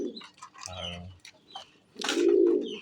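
Pet pigeons on a home farm coo nearby in low, throaty rolling calls, a couple of bursts with the loudest near the end, alongside faint chirps and light rustling.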